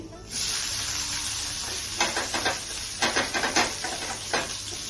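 Onions go into a hot pan for a fish curry and sizzle at once in a loud, steady hiss, with short bursts of crackle and a few scraping stirs near the end.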